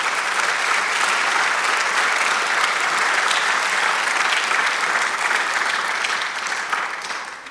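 Sustained applause from a church congregation praising God during a Sunday sermon, a broad, even wash of many clapping hands that holds steady before easing slightly at the end, with no talking.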